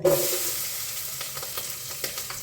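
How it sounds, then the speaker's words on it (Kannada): Onion and green chillies sizzle and fry in a little oil for chicken biryani, a steady close crackle with faint stirring scrapes throughout and no talk. "ಇವಾಗ ಈರುಳ್ಳಿ ಮತ್ತು ಹಸಿಮೆಣಸಿನ್ಕಾಯಿನ ಹಾಕ್ತಾ"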